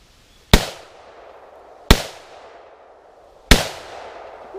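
Three separate loud gunshots at an outdoor shooting range, each a sharp crack with a short decaying tail, spaced roughly a second and a half apart and close to the listener.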